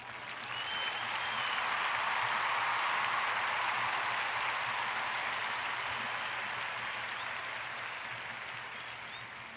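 A crowd applauds steadily during a live online talk show, a continuous wash of clapping that swells early, then slowly fades while staying fairly faint throughout.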